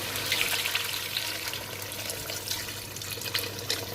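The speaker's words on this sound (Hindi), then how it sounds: "अब मैं इसके अंदर 3 कप्स जो है पानी ऐड करूँगी।" Three cups of water poured into a tahari pot with oil on the stove, a steady close splashing gush running the full length with no voices.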